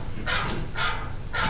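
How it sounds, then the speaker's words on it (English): A phone ringtone plays a recording of a dog barking, three short muffled barks evenly spaced over steady room noise in a hall where a speech is underway. "That's my phone with my dog on it."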